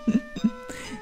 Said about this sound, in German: Muss trotzdem husten.